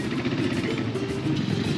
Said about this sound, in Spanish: Aquí también hay bastante movimiento de moto.